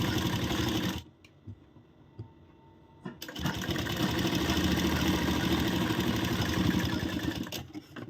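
A sewing machine stitches a blouse lining in a run of rapid mechanical clatter, pausing briefly near the start before resuming steadily, close and fairly loud with no speech.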